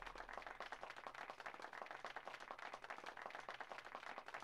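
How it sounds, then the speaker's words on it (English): Rhythmic clapping by the king character in Little King's Story, a quiet, steady run of soft claps with a faint game backdrop and no talk. "That was the most awkward clap of all time."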